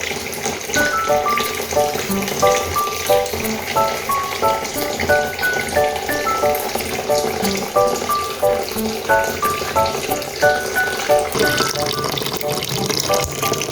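Fish fries in a pan with tomato, white onion and ginger: a steady sizzle and crackle runs throughout under a louder melodic music track.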